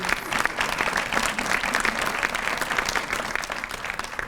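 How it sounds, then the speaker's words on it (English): Steady, dense applause from a banquet audience at a mayor's committee event for persons with disabilities, sustained and moderately loud throughout. "So applaud these wonderful ladies."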